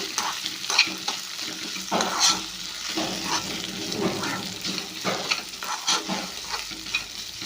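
Okra sizzles steadily in oily pan, with a close, constant crackle and repeated soft stirring scrapes throughout.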